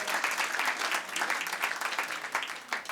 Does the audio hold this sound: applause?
yes